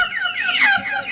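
A man on stage mimics a hen with his voice, a bright warbling cluck-like squawk lasting about a second, close and loud, during a comic stage performance.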